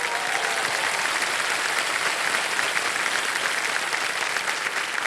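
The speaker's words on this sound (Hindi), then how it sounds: "तालियों के साथ स्वागत करती है" A studio audience on a television quiz show claps in sustained, dense applause that holds evenly loud from start to finish.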